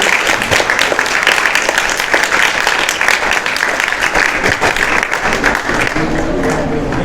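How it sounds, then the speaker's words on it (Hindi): Loud, dense applause from a gathered crowd welcoming a woman honoured at a national Arya Kshatriya assembly event, continuous and close throughout. "इनका बहुत जोरदार तालियों से स्वागत है"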